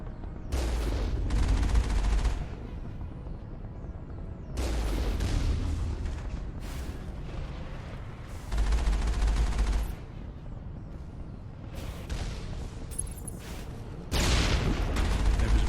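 Turret gunfire in Mass Effect comes as sustained bursts of rapid heavy firing, each lasting a couple of seconds and separated by quieter stretches of rumbling game noise, loud and close.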